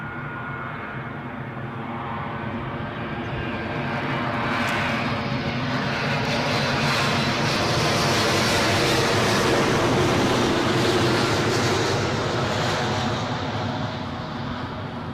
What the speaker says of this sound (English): Next inbound, 777 from New York, courtesy of British Airways